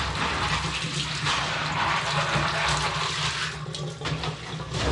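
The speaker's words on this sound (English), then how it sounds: "Take this, we'll rinse it in the tank water real quick." Aquarium filter basket from a Seachem Tidal 55 being rinsed in tank water, giving a continuous close splashing and gurgling wash of water with slight swells, no voices.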